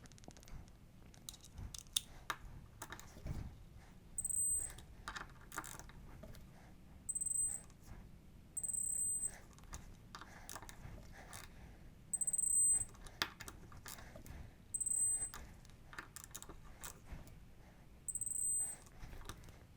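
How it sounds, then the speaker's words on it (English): Faint, short clicks repeat at intervals of a couple of seconds as a torque wrench tightens brake bolts on a BMW Airhead motorcycle fitted with a modern Brembo brake conversion, set against quiet workshop background with no talk. "And torque everything down to 20 Newton meters."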